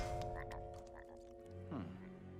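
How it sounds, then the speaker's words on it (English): Cartoon frogs croak in an animated show, a few low, throaty calls with a rising warble near the end, layered over a sustained musical score. "it's just a bunch of frozen frogs walking around"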